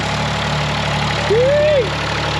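A tractor engine runs steadily at a constant mid-level drone while working a field, with a brief rising and falling whine partway through; no voices are heard.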